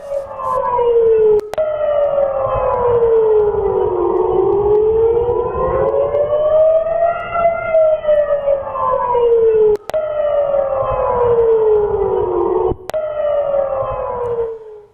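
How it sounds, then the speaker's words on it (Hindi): Air raid sirens in Ashkelon, Israel wail loudly, their tones rising and falling in long slow sweeps. Several sirens overlap, and sharp brief cuts break the sound now and then. "उसके बाद जो सायरन है वो एक के बाद एक बजे।"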